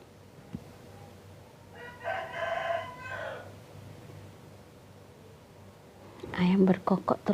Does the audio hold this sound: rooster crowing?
yes